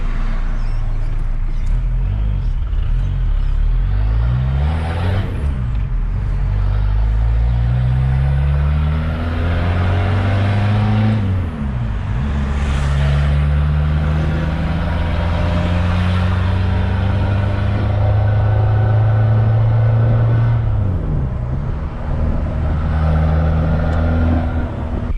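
A Suzuki Vitara with a swapped-in 2.1TD diesel engine drives along, its engine note rising and falling through several gear changes, loud and close from inside, with no talking.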